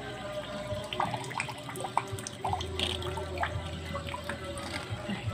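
Water flows from the hose of a 4.2 W DC micro brushless hydroponic pump, splashing and trickling continuously up close with small drips and gurgles, while a voice speaks faintly in the background.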